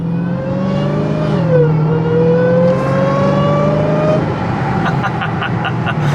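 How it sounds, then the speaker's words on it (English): Loud, steady supercharger whine rising in pitch over the supercharged V8 of a 797-horsepower Dodge Charger Hellcat Redeye under partial throttle, continuous and close, with the engine note climbing then settling. "Partial throttle, just listen to the supercharger whine."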